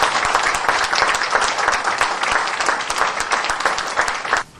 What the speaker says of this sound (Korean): 정길생 원장님께 한 번 더 감사의 큰 박수 주십시오.